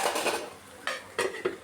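A metal lid clatters onto a cooking pot of onion and tomato, a few close clanks and rattles with short gaps between them, bright and loud against a quiet background.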